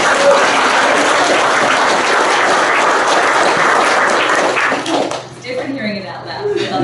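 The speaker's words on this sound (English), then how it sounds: "Let's give him another round of applause." Wedding guests give a sustained round of applause, loud dense clapping for about five seconds that then fades into quieter room sound with faint murmuring.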